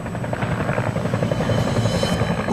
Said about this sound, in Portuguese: O Carrie pediu o helicóptero de um amigo do pai dele emprestado para sobrevoar a cabana onde Craig morava na época